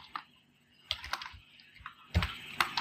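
Keys clatter on a computer keyboard as a short command is typed, a few scattered clicks followed by a denser burst of keystrokes near the end, close and fairly quiet with no talking.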